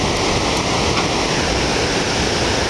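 Ocean surf at the Sendai Port beach on a rising tide, a steady, loud broadband wash of breaking waves with no voices, continuous and close throughout.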